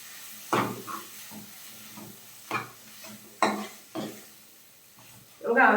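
Squid pieces and tomatoes are stirred in a pan with a soft background sizzle, while a spoon scrapes and knocks against the pan in several distinct strokes spread irregularly through the stretch. A louder scrape comes at the end.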